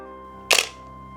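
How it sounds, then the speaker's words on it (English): A Nikon D800E camera fires a single loud, sharp shutter-and-mirror click, close up and brief, against a faint steady electrical hum. "it's noisy, like it's a loud shutter click"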